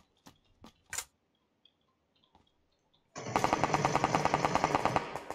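In the PC game PUBG Lite, a few scattered single shots and clicks give way to a loud, sustained burst of rapid automatic gunfire that lasts for a couple of seconds.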